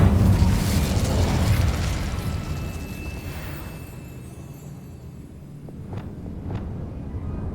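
Fire spell Incendio cast in Hogwarts Legacy, a loud broad whooshing burst of flame that swells then fades over a few seconds, followed by a couple of sharp faint clicks near the end.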